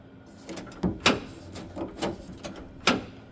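Clicks and clunks from a Ford Transit 150 van door with a broken, hard-to-open handle as the latch and cable are worked, several sharp knocks spaced irregularly, close and moderately loud.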